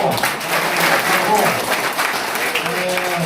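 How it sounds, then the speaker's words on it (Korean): Audience applause fills a conference room at a political party's campaign committee disbanding ceremony in Incheon, a steady dense patter throughout while a voice speaks over it. "박수 한번 쳐요"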